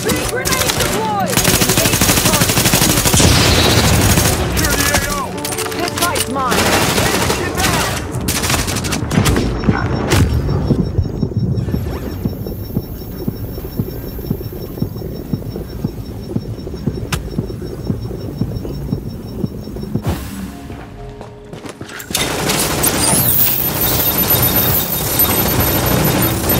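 Gunfire in the video game The Division during a four-player mission at the Russian Consulate, heavy sustained automatic bursts that drop away midway to a humming lull, then resume loudly.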